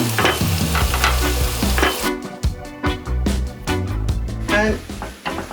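Dumplings frying in hot oil, a loud, dense crackling sizzle that continues throughout with bursts of popping and a few spoon or pot knocks, close up with no talk.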